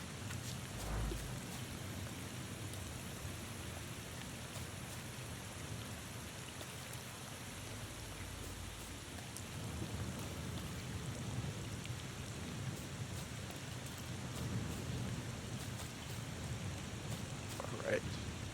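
Steady rain falls throughout with low rumbles of thunder rolling in and out, a continuous moderate wash of sound.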